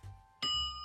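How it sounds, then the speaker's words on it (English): A meditation bell strikes once, a clear ringing tone that sustains and slowly decays, heard alone in a quiet setting after a soft breathy lead-in. "Listen to the bell and just see these roots growing deep down"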